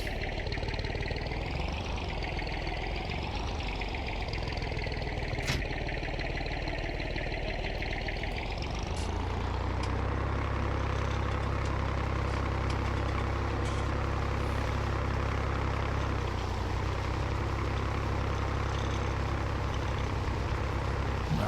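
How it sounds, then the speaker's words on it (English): A tractor engine idles in the Farming Simulator 19 video game, a continuous droning rumble that deepens and grows louder partway through, then holds steady at close range with no talk. "let's get into the tractor"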